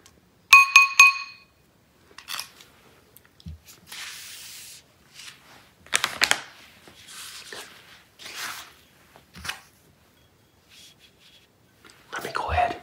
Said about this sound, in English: a sound hitting the glass bowl. This tells me that these are gonna be hard candies and not gummy candies